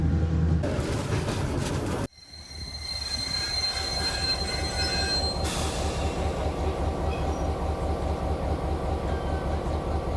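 Yugoslav-era train in North Macedonia rolling on the rails, its wheels squealing loudly and steadily over a continuous rumble, with a brief sharp drop in noise early on before the grinding screech resumes and holds.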